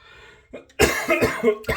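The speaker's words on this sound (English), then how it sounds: "I still got some of the cough from the sinus infection I had." A few harsh, close coughs in quick succession after a brief quieter moment, fairly loud and chesty, from a lingering sinus infection.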